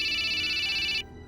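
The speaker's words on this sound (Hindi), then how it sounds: "गायत्री देवी के मोबाइल पर किसी का कॉल आया" An incoming call rings on a mobile phone in a domestic drama scene, a steady electronic ringtone that plays continuously for about a second and then cuts off abruptly, leaving quiet background.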